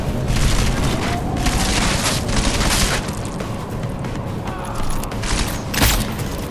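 A grenade blast in Deus Ex: Mankind Divided, heavy booming rumble and crackling debris roaring continuously at high volume, with several surging peaks rather than one clean bang.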